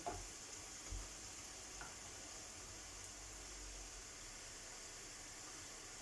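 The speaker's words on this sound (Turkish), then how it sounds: "Patates kızartmamız da hemen hemen olmak üzere." Potatoes cut for French fries sizzle in hot oil, a faint, even hiss that holds steady, with a couple of soft knocks near the start.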